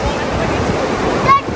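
Sea waves wash steadily onto Digha beach on a morning shore, a loud continuous surf roar with a brief swell near the end while people call out nearby.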